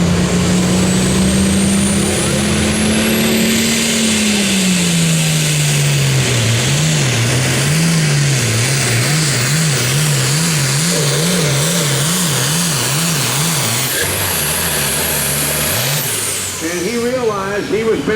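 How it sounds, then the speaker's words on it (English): Loud, sustained engine roar of a super farm tractor at a tractor pull in Rossville, Illinois, revving with a wavering, pulsing pitch that rises then bounces as it strains down the track, with an announcer talking over it throughout. "we also have another Mac Darnell tractor coming through, the maximum overdrive"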